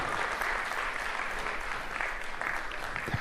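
Steady audience applause fills a lecture hall during a humorous motivational talk, a dense, even wash of many hands clapping at moderate loudness, with no voices over it.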